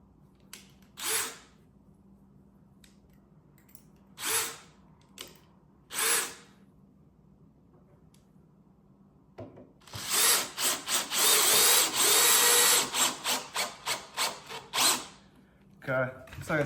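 Power drill with a fresh bit working on a door board: short whirring bursts spaced apart at first, then a longer loud run of drilling with choppy pulses, fairly close.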